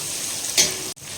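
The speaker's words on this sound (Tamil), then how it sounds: "ஹை ஃப்ளேம் தான் வச்சுருக்கேன். நல்லா வதங்கிட்டு இருக்குது." Shallots sautéing over a high flame give a steady close sizzle, with a brief louder burst of frying near the middle and a sharp cut to near silence just before the end.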